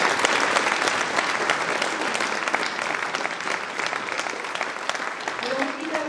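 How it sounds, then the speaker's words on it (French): An audience at a New Year's greetings ceremony in Soustons claps in a sustained, dense round that gradually thins toward the end, with faint voices under it. "Un engagement depuis 1976, je crois que ça s'applaudit très très fort."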